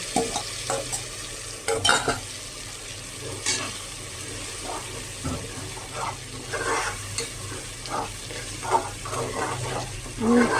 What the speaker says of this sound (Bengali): বাকি পেঁয়াজের ভিতরে আমি আমার ডালটা ঢেলে দিব।